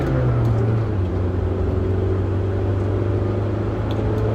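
Car engine pulling away from a hill start, a steady loud close rumble with a low droning tone holding throughout.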